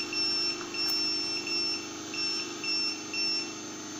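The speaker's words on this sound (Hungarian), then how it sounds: "A műszer csipog, jelzi mindig" A voltage meter on a 15 kW rotary phase converter beeps a high-voltage warning: evenly spaced, clear electronic beeps repeating about every half second over a steady electrical hum.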